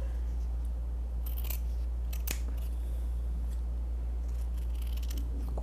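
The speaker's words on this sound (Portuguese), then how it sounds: "Vou pegar uma base aqui, vou cortar aqui." Scissors cutting through felt for a fabric-flower headband, a few crisp snips clustered early and another near the end over a steady low hum, close and clear, with no talking.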